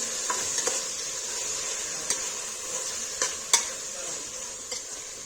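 Seven small chopped tomatoes frying in a pan for tomato rice, a soft steady sizzle with a few faint clinks of stirring scattered throughout.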